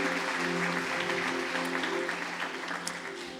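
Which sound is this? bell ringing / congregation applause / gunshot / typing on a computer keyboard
congregation applause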